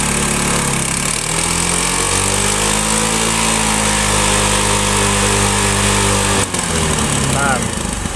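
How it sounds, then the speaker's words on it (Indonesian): A Honda Beat scooter engine, older model, revved from idle up to high RPM, a loud buzzing whine that climbs and holds steady close by, with the pitch shifting as the throttle changes. "Coba kita untuk di RPM tinggi ya, coba kita gas."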